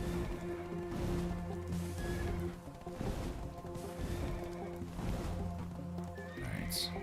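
A horse whinnies in the online role-playing game Black Desert Online, heard over constant game music, battle hits and effects, with a short high call rising near the end.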